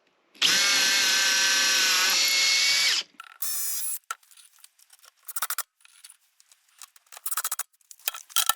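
A power drill whines loudly for about three seconds as it drives a screw into a wooden counter, gives one shorter burst, then falls quiet except for scattered clatters and knocks.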